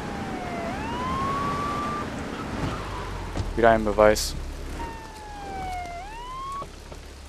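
A police siren wails in Grand Theft Auto 3, rising and falling tones heard twice amid rain-like background noise, with someone briefly speaking between the siren bursts.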